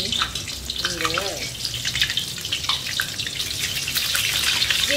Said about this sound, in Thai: ตอนในระยะแรกที่เราใส่ปลาลงไปชวมลงไปในน้ำมันนะคะ